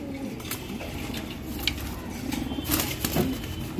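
Pigeons in a loft flap their wings in repeated bursts, with faint cooing underneath, all fairly quiet and close by.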